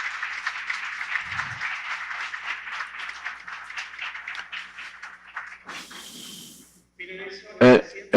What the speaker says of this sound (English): have a great applause for the Brazilian delegation